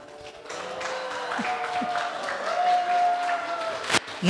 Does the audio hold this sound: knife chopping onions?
no